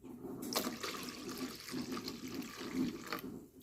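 Water pours into a pot of tamarind and dal rasam on the stove, a soft steady gurgling stream with faint splashes lasting a few seconds and no speech.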